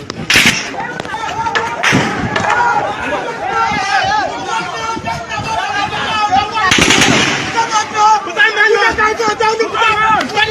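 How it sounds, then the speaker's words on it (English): Police gunfire during a street clash in Enugu: sharp cracks and bursts of shots ring out over shouting crowds and agitated voices, loud and chaotic throughout. "As you can see, they are shooting our people."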